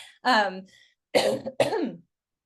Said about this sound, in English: I'm getting over pneumonia, so I'm like hacking and coughing over here.